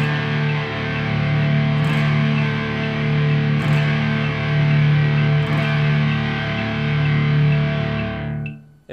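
Distorted electric guitar rings out the sustained, untimed intro chords of a song over about eight seconds, loud and steady, then cuts off abruptly at the end.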